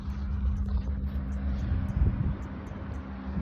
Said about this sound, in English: I got some birds, bit of traffic noises